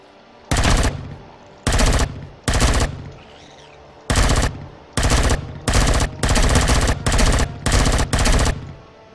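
Automatic gunfire from guns in the sci-fi survival game Empyrion: about ten loud, separate bursts of rapid fire, each lasting roughly a third of a second, with brief pauses between them and no talking.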